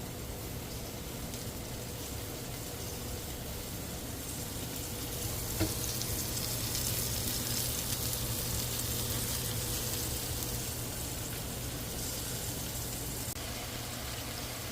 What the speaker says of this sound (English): The browning is coming along real nice